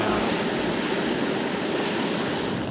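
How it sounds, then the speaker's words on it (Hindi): Geothermal hot spring water in Ladakh gushes hard from the ground under strong pressure, giving a loud, steady, continuous roaring rush with no pause. "इतना तेज़ गर्म पानी इसके अंदर से निकल रहा है"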